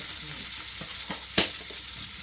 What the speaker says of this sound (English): you add a little bit of butter to the pan